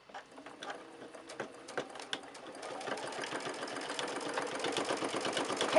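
A sewing machine stitches fabric for a tissue box cover, a rapid rhythmic mechanical whirring and clatter that starts gently and speeds up, growing louder and steadier toward the end, heard alone and close.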